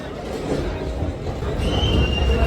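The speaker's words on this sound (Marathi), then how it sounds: "ट्रेन रिवर्सला येते आणि आपल्या पुढंच सगळे जनरल डबे आहेत" Train coaches roll slowly in reverse into a station, producing a steady low rumble of wheels on rails with a thin metallic squeal that rises toward the end.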